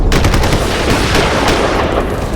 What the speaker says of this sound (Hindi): फायरिंग झोपड़ी से आ रही है